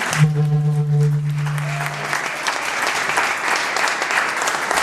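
An audience applauds an economist honored as the first Chicana to earn a doctorate in economics from UC Berkeley, dense sustained clapping filling the room, with a held sung or spoken tone over the opening seconds.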